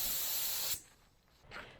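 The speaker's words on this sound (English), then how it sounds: "I'm letting all the way off the spray gun trigger where I shouldn't be" A spray gun sprays paint onto the hood of a Ford F100 truck, a loud, close, steady hiss that cuts off sharply as the trigger is released, followed by a brief quieter burst.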